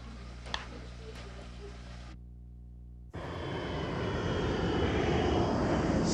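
Airplane engines of transport planes carrying peacekeepers into Bosnia roar in a broad, rising drone that grows louder after a brief cut, preceded by a quieter stretch with faint background noise.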